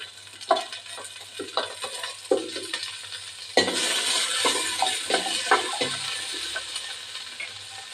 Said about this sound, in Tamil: தக்காளி, ஒரு மிளகாய் எல்லாம் வதக்கணும்.